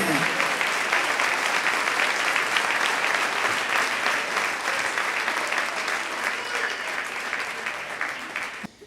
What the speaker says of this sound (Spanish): Denle un aplauso al Rey en esta preciosa noche.